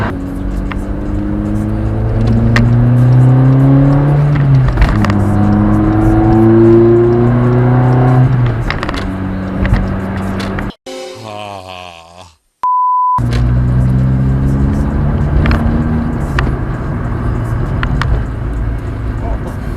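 A Vauxhall Corsa engine rumbles deep and throaty, rising and falling in pitch as it revs, then briefly cuts out with a beep before resuming.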